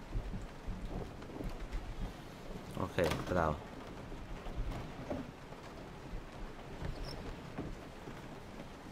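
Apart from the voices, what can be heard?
rain and thunder in the video game Resident Evil 7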